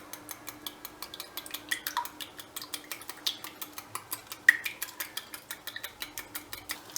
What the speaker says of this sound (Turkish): Şimdi üzerlerine sürmek için bir yumurtayı çırpıyorum.